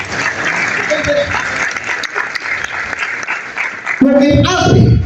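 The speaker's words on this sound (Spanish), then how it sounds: "Fuertes palmas para la compatriota." Audience applause at a political gathering, a steady wash of clapping that swells louder near the end, with a voice speaking over it early on.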